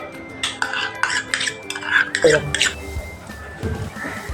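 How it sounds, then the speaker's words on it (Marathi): Powdered sugar and ghee mixed in a bowl with a spoon, a series of quick clinks and scrapes of metal against the bowl, close and fairly loud, with a person talking over it. "पिठी साखर आणि तूप एकत्र मिक्स करायचं"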